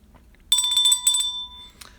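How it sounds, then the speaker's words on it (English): A small bell is struck once for a hit while a baseball card mail break is being opened, ringing out loud and clear with a bright sustained tone that decays over about a second and a half. "I got to get the bell for this one."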